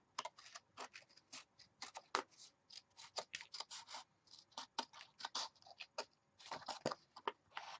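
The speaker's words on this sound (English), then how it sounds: "now I'm going to cut off my excess" Scissors or a blade trimming excess paper for a mini album, producing quick, close, crisp snips and rasping cuts in uneven bursts, fairly quiet with no talking.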